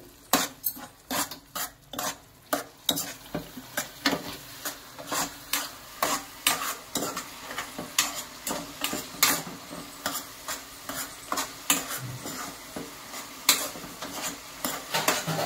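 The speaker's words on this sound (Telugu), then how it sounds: "కారం వేసుకున్నాం కదా, బాగా కలుపుకుందాం ఒకసారి" A spoon scrapes and stirs chilli powder through a broad bean curry in a pan, in regular rhythmic strokes over a faint sizzle, close and steady with no talking.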